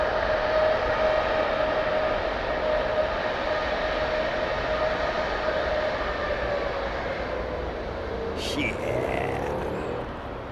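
Rolls-Royce Trent jet engines at Heathrow Airport make a loud, sustained roar with a steady whining tone that slowly shifts in pitch, and a voice speaks briefly over it.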